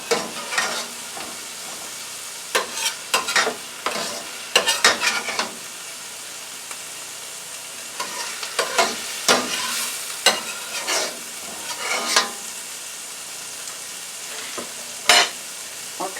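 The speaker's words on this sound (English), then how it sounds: "we're going to add in the chicken into the frying pan" Stirring and scraping of chicken in a hot frying pan with sizzling underneath, scattered clinks of a utensil against metal, close by, no talking.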